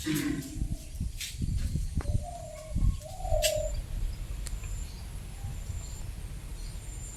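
A dove perched on a house roof gives a few soft, low coos amid outdoor background murmur, with faint chirps and a brief flutter in between.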